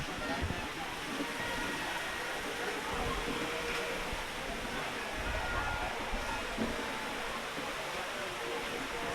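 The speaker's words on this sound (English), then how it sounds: "now Air Force ground is under a heavy shower of rain" Heavy rain pours down steadily over an Air Force rugby ground during a schools match, a dense continuous hiss filling the whole scene, with a commentator's voice faintly beneath.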